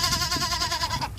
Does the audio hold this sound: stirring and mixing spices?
no